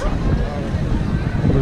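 Wind buffets a handheld microphone outdoors in a city street during a Day of the Dead parade in Guanajuato, Mexico, producing a continuous low rumbling roar throughout with no clear speech.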